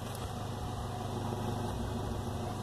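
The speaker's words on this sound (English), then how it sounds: "it's running slow. Let's see what it sounds on the exhaust." Chevy truck with a custom cold air intake idling slowly at the exhaust, a steady low engine rumble with a regular pulsing beat, close and continuous throughout.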